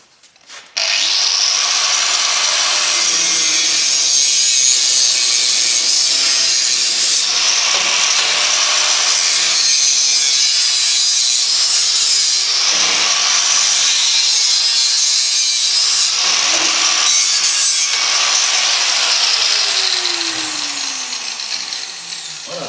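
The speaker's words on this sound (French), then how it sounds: "Donc là, on va couper déjà la barre, couper les entailles" Metal bar being cut for a homemade barbecue, a loud, continuous harsh grinding hiss with recurring dips and surges as the cut proceeds, steady for over twenty seconds.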